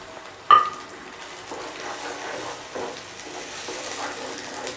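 Pureed tomato sautés in a pan for paneer masala. A sharp metal clink from a utensil comes first, then a soft, steady sizzle with faint stirring scrapes.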